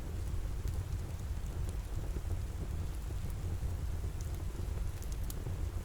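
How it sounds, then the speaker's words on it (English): Steady rain falls and taps on a surface in a quiet cottage, with low thunder-like rumble beneath and faint scattered drops above, continuous and even throughout. "The rain taps a little faster now"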